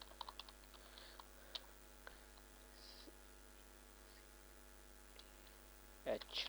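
Computer keyboard keys tapped while entering a terminal command on Ubuntu, a few sparse quiet clicks scattered over a low hum, ending with a louder cluster of presses.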